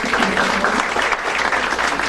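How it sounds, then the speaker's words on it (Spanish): A conference audience claps in a dense, steady burst of applause, loud and continuous from start to finish with no voices on top. "de nuevo para cada uno de ustedes un fuerte aplauso."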